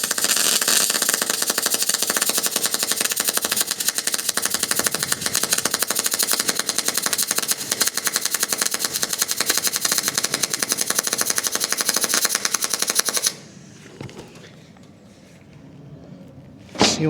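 Welding on a lounge roof hatch: a loud, continuous crackling buzz held steadily close up for about thirteen seconds, then cutting off to quiet room sound with a brief knock at the end.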